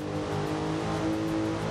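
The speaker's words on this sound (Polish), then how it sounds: "Wciskam gaz do dechy." A Formula 1 car in Forza Horizon 5 at full throttle gives a steady, loud, high-pitched engine drone that holds without a break over a short stretch, with no talk.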